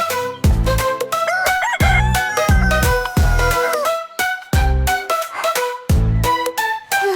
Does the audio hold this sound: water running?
no